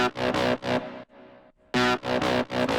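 Thick, layered distorted lead synth stabs through a soft clipper, loud and compressed, with a quieter sustained tone briefly filling a gap before the punchy bursts return, in a moombahton EDM track.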